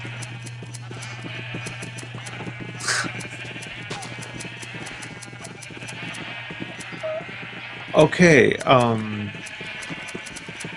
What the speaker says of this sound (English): You're running through these rainbow sheep, cutting off their wool.